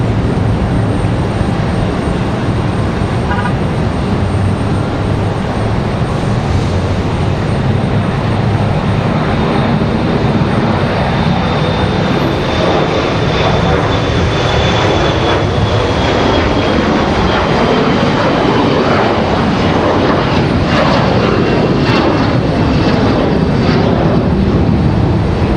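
Several airliners departing one after another at Raleigh-Durham International Airport, a steady loud roar of jet engines that swells and holds throughout with no talk.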